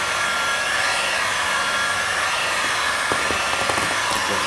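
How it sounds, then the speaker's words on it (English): Heat gun warming vinyl wrap on the front bumper of a 2015-2017 Subaru Outback. A steady, close blowing roar holds throughout, with a few faint clicks near the end. "A little bit of heat to kind of warm this area up."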